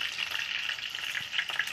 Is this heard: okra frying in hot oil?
yes